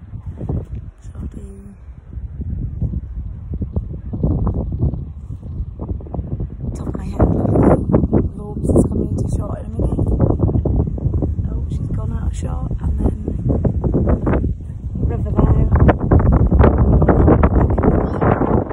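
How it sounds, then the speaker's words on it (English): Strong wind gusting at a seaside caravan park in Denmark, Western Australia, roaring steadily and loudly against the microphone throughout, with a voice talking underneath. "It is actually quite windy at the end here now."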